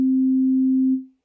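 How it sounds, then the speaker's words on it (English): A steady pure sine-wave tone at one pitch, loud and clean, holding for about a second before fading out smoothly. "For example, here's a sine wave,"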